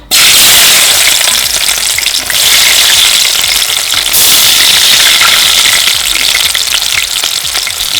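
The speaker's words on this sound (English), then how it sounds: "When cooking oil is fully cooked and very hot, you now add in onions." Onions hitting very hot cooking oil in a pan make a loud, steady, close-up sizzle and crackle that holds unbroken for the whole stretch, with no talking.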